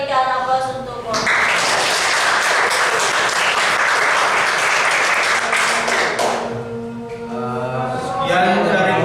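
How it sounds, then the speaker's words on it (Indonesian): A group of people applauds a presenting student group in a classroom, steady loud clapping running for several seconds, with voices briefly heard before and after. "Kita berikan aplaus untuk kelompok."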